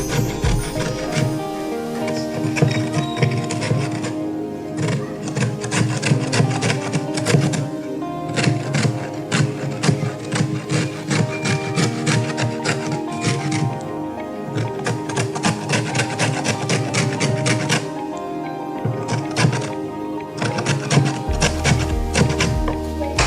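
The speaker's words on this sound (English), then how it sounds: "I'm starting with peeling lemon. Grating lemon." Lemon peel is rasped on a grater for waffle batter in rapid, repetitive scraping strokes, loud and close, continuing in steady bursts with brief pauses for over twenty seconds.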